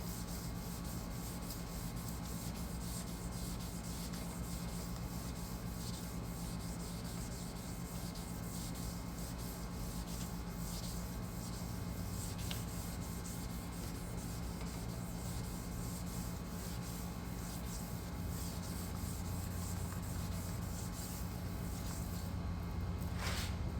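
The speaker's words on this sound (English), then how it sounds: "You just sand on it a little." Steady, continuous rubbing of wet sandpaper on a yellowed, foggy plastic car headlight lens being restored, an even close-up scrubbing texture that runs unbroken the whole time with no talk over it.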